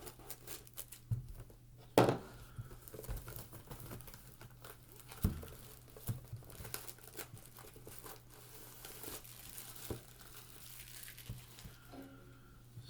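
A 2020 Topps Chrome Black card box opened close by, with crinkling plastic wrap, tearing and rustling packaging in irregular bursts, and a sharp snap near the start.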